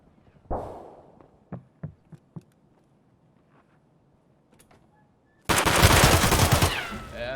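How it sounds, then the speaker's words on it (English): Gunfire in the video game Escape From Tarkov: a sharp shot followed by a few scattered quieter reports, a pause, then a sudden loud sustained burst of close, dense firing. "We shot him in the head twice"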